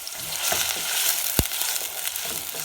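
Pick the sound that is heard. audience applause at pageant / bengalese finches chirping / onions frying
onions frying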